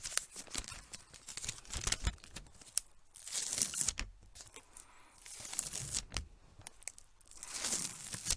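Adhesive tape growing less sticky is peeled, crinkled and torn close up in a quiet trailer, a steady run of soft rips and crackles that rise and fade over several seconds, with no talk.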